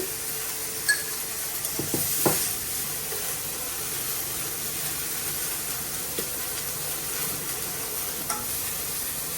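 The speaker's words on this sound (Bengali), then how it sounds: "লবণ আর হলুদ দিয়ে এটা ভেজে নিতেছি" Pieces of capsicum or potato frying in oil with salt and turmeric, a steady low sizzle with a few scattered scrapes and taps of a spatula stirring in the pan.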